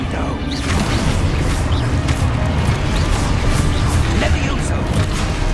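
A Descendo spell slams down in a Hogwarts Legacy fight, making loud booming crashes over a dense, steady roar of combat noise, with a voice talking throughout.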